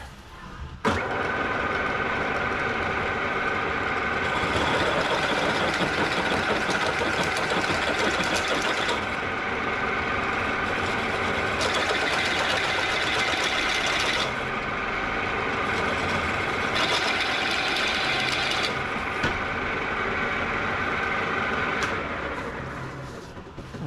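1971 MCI MC7 bus engine idling at about 500 RPM in a workshop, a steady loud diesel drone lasting throughout with no speech.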